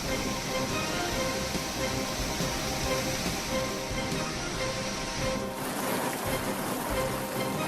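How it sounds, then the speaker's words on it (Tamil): Floodwater roars over the Hogenakkal falls on the Kaveri river, a steady, dense rushing wash with no talk. "ஒகேனக்கலில் அனைத்து அருவிகளிலும் தண்ணீர் ஆர்ப்பரித்து கொட்டுகிறது"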